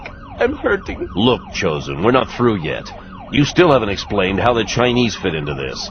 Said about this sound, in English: That is the ambulance.